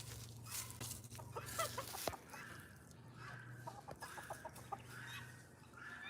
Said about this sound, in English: And we got a rooster who's over here.